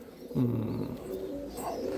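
A pigeon coos softly with a low, throaty warble, close by, over a faint steady background hiss.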